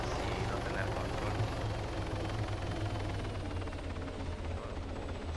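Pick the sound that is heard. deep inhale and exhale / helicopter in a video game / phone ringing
helicopter in a video game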